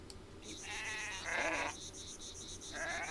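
Sheep bleating in the video game The Great Circle, a series of drawn-out wavering bleats, fairly close and clear over a steady, soft ambient background.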